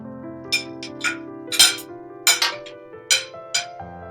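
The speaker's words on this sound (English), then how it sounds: "Only the clinking of silverware could be heard as hush fills the room" Silverware clinks against plates during a quiet meal: a series of bright, separate metallic taps spaced irregularly over a low steady hum, with no talk.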